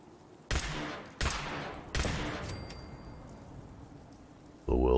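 A laser pistol in Fallout 4 fires three sharp, loud shots at a steady spacing, each fading with a short echoing tail, followed by a brief burst of another harsh sound at the end.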